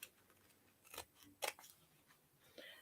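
Scissors snip through material for a woven hair barrette, with several quiet, close cuts in an uneven rhythm and faint ticks between them.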